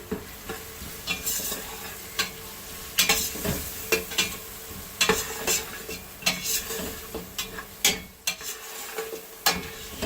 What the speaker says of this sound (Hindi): अब इसको हिलाऊंगी, थोड़ा सा भूनूंगी।